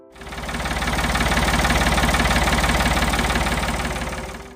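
A Ford 3000 tractor engine runs steadily with a close, loud, rhythmic low chugging that swells in quickly, holds even, then eases slightly toward the end.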